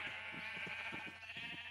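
A sheep bleats in Minecraft, a long, wavering, nasal bleat that holds steady with a rhythmic pulsing, close and moderately quiet, with no talk over it.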